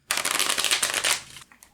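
A deck of playing cards being shuffled, one quick riffle of rapid fluttering card clicks lasting about a second, close and crisp, then a soft settling tap.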